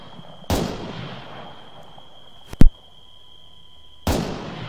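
Three sharp gunshots ring out outdoors among rocks, aimed at a distant target, each a loud isolated crack with a short echo tail, spaced about two and a half and one and a half seconds apart.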